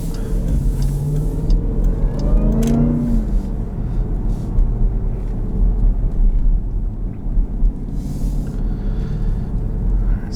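A 2018 Jeep Grand Cherokee Trackhawk's engine and exhaust rumble loudly from the cabin, a deep sustained drone swelling as the revs climb and settle, with heavy low-end roar throughout.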